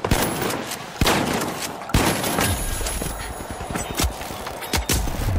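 A Model 1887 lever-action shotgun fires in a video game as a series of loud, booming blasts spaced about a second apart, with rapid gunfire and clattering effects around them.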